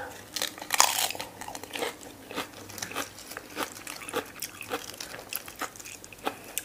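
Wet, crunchy chewing and biting of raw liver prepared as Thai koi tap, close to the mouth, with irregular bites and squelches repeating steadily and a louder crunch near the start.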